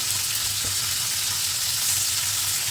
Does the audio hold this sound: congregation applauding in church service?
no